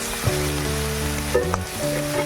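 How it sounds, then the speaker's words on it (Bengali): Ginger-garlic paste with a dried red chilli frying in a pan, a steady close sizzle with a few clinks of stirring and some faint tonal hum underneath. "তারপর আদা রসুন বাটাটা দিয়ে দেব, দিয়ে আবার লাল লাল করে ভাজা করে নেব।"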